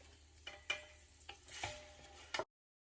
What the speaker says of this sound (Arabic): هنا نخلو اللحم يتقلى مع البصل